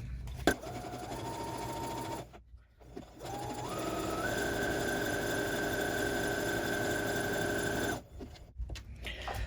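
Sewing machine stitching a seam on a pillowcase pincushion, a steady close whirring hum running in two long stretches with a brief pause between, its motor pitch stepping up as the stitching speeds.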